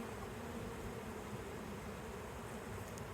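Honey bees from a recaptured swarm buzzing around a hive, a dense continuous drone heard close and alone without any voices.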